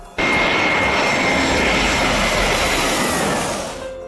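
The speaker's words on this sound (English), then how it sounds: "Ryanair, 737 getting tossed around like a paper airplane in those crosswinds at Dublin" A Ryanair Boeing 737 lands in gusty crosswinds at Dublin, its jet engines producing a loud, steady roar that begins abruptly, holds for several seconds and then starts to fade.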